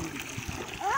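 Water splashes and gurgles in a pool where children have made a small waterfall, a steady close pouring and splattering under children's voices.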